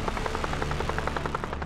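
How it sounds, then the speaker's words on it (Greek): Military helicopters, Kiowa Warrior and UH-1H Huey, heard with a rapid rhythmic rotor thumping and a steady turbine whine, close and loud throughout the short stretch. "Συμμετέχουμε με 2 ελικόπτερα αναγνωρίσεως Kiowa Warrior και 2 ελικόπτερα γενικής χρήσης UH-1H Huey"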